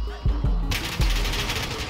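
AK-47 gunfire in a video game comes as quick, punchy bursts of shots, loud and close, running into a sustained rattling stream of fire.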